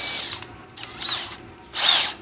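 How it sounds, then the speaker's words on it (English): A power drill spins a drill bit to deepen a counterbore, with a few loud, high whining bursts in quick succession and no voices. "I'm going to take a drill bit and just increase the depth of that counter bore a little bit"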